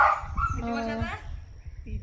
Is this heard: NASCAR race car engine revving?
no